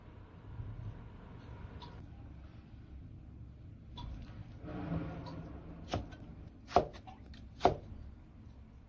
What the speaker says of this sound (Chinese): 这个稍微要切的偏厚一点，然后再切成这样的粗条。